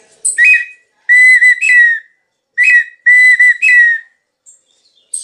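A handmade wooden partridge call gives loud, clear whistled phrases in two bursts of short trilling notes, separated by silence.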